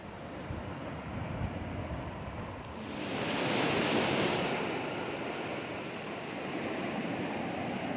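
Broad, steady roar of monsoon floodwater rushing down a desert wash, swelling louder midway then settling into a continuous turbulent wash, with some wind buffeting.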